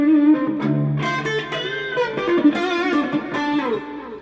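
Electric guitar played through a Boss Katana Mini X practice amp with delay and reverb both engaged: sustained, ringing notes and chords trail off into echoing repeats and a wash of ambience, loud and close, with no voices.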